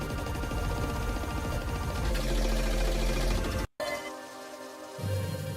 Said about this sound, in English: this is the sound of me just literally